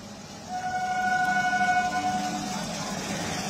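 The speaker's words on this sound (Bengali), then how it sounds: "ট্রেন দেখুন দাঁড়িয়ে আছে।" A train stands at a railway level crossing in West Bengal, sounding a sustained, fairly loud two-tone horn over a steady background rumble that fades after a couple of seconds.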